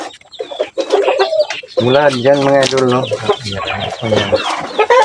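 Backyard chickens cluck and cackle close by in short bursts, with someone talking over and between the calls.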